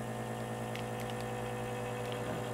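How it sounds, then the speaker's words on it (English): Weston Pro 2300 vacuum sealer running steadily while drawing vacuum on a bag, a continuous motor hum with a low buzzing drone, close and unbroken, no talk. "I'm going to use the Pro 2300 to actually draw a vacuum and seal this bag."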